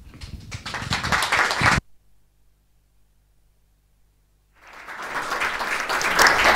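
Audience applause in a German lecture hall welcoming someone speaker at a civic talk, a dense broadband clapping that stops abruptly, leaving near silence for a few seconds, then swells back up loud and sustained.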